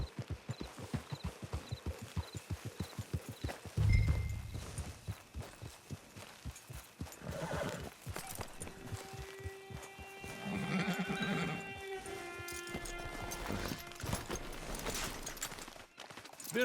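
Horse hooves clip-clop in a steady, rapid rhythm through a Red Dead Redemption 2 game scene, joined midway by a brief whinny, with game ambience and tonal music layered underneath.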